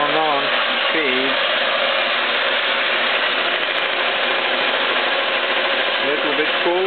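A 6T10 milling machine cuts a 110cc Chinese motorcycle engine head, giving a loud, steady broadband machining roar that runs unbroken throughout, with brief voices faintly audible near the start and end.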